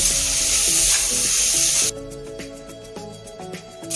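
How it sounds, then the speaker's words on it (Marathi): Pulao masala fries in hot oil with a loud, hissing sizzle that drops to a softer crackle partway through, close up, while a melodic background tune plays underneath. "मसाला पण जरा तेलात परतून घ्यायचा"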